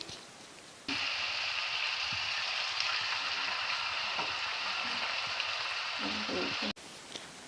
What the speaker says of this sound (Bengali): চিকেনটা ভালো করে ভাজা হয়ে যাক।